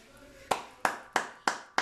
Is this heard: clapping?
yes